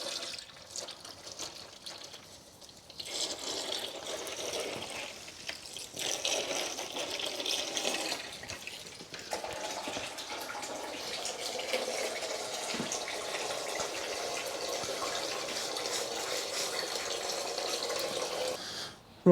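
Engine oil drains from the sump of a 2010 Mazda 2 1.5 petrol into a container, a steady close trickling pour that runs continuously with little change in level.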